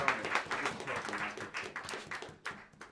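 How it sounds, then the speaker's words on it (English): Applause for the drummer in a small jazz club crowd, distinct clusters of claps pulsing unevenly near the listener and gradually thinning toward the end. "give a warm round of applause for the great Allan Mednard on the drums"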